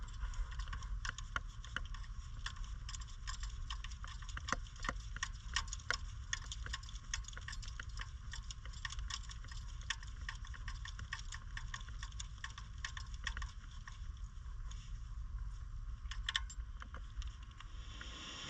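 A ratchet clicks in fast, irregular runs while spark plugs are screwed back into the engine of an abandoned truck, faint and close against a low steady hum, with no voices.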